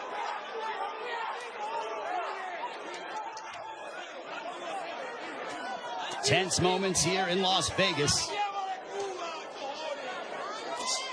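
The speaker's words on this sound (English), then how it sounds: "A very one-sided crowd, all in favor of Manny Pacquiao for the most part" Crowd chatter and cheering fill a Las Vegas boxing arena during the Pacquiao vs Ugas fight, with a ringside commentator talking over the steady murmur and a louder surge of crowd noise partway through.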